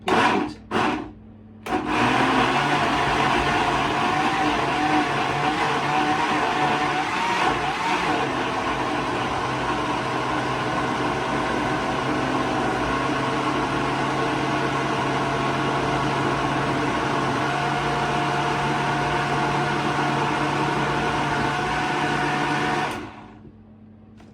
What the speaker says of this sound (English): If I put the top on the blender, because I don't want it to mess it.